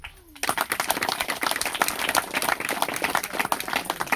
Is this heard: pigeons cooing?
no